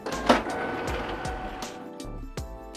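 A Canon Pixma TS3150 inkjet printer printing a print head alignment page, a whirring carriage motor with rhythmic mechanical clicks and shuffles, close and fairly loud.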